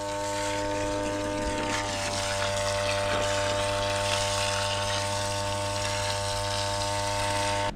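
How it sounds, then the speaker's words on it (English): An off-grid solar water pump runs with a steady, unbroken mechanical hum and faint watery churn that holds level and close throughout. "our solar pump is still working great"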